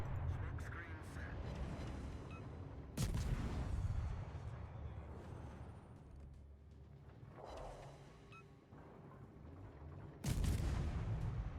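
German Z-31 destroyer guns firing in the naval game World of Warships, several heavy booming salvos with sharp onsets that fade into rumble, spaced seconds apart over engine and ambient battle noise.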